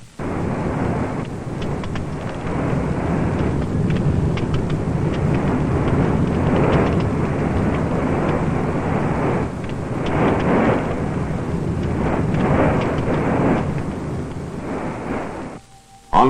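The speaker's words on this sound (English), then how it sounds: "Any year in the cities, fire and explosion." Civil defense footage of city fire and explosion, a loud, continuous roaring rumble with bursts of crackle sustained for the whole stretch, ending in a sudden cutoff.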